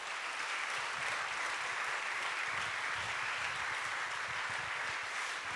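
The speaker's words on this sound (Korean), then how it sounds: "우리 다니엘로 목사님 또 백운영 선교사님 나오실 때 박수로 우리 환영하겠습니다." Sustained, even applause from an audience at a Korean church gathering, welcoming a pastor and a missionary as they come forward, steady and dense for the whole stretch with no voices over it.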